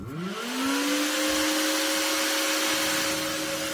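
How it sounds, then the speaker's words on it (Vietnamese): Cooling fan of an old switching power supply running hard under increased load, a loud steady whir that rises in pitch over the first half second then holds a sustained tonal hum. "Tiếng quạt máy chạy rất mạnh nhé các bạn."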